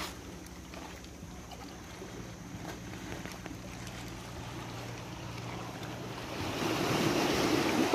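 Rushing surf and wind noise fill the air, building louder toward the end as strong ocean waves crash nearby on the coast at Matnog, Sorsogon.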